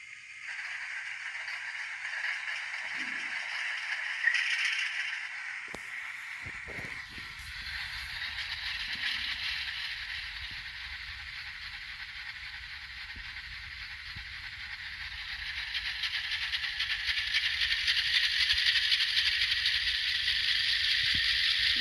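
A Kato ES44AC Gevo model locomotive fitted with an ESU LokSound decoder runs its diesel start-up sequence: clicks and a rattling crank give way to a steady, building engine drone heard close up.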